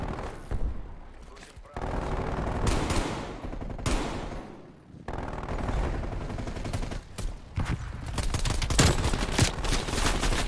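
Video game gunfire from a player's gun, dense bursts of loud rapid shots with brief pauses between volleys, mixed with other battle noise.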